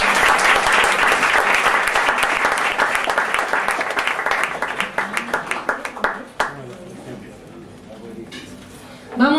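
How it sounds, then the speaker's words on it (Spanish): Concert audience applauding for singer Gustavo Iglesias, dense clapping at first that thins into scattered claps and fades, leaving a brief quiet tail. "Un aplauso, por favor, para Gustavo Iglesias."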